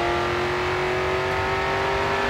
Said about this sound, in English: throttle now, coming onto the final straight